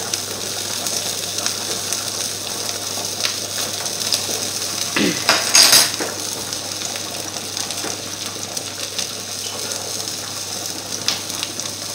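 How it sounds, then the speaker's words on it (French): Onion frying in a pan, a steady soft sizzle with stirring and one short louder scrape partway through. "Là, on fait revenir notre oignon."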